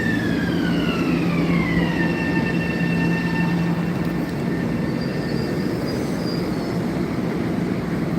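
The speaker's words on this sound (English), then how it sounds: "This is the train to Penn Station." A commuter train rolls steadily on the line toward Penn Station with a continuous loud rumble, and a falling then steady tone is heard over the noise.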